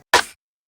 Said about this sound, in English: and then this jingle rim